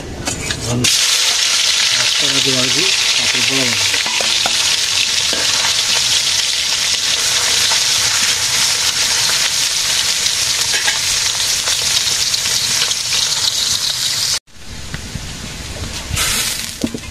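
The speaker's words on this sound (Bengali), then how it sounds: "মাছ ভাজি হয়ে গেছে" Fish frying in hot oil in a village kitchen, a loud, dense, continuous sizzle and crackle close by, with faint stirring and a brief break near the end before the frying resumes.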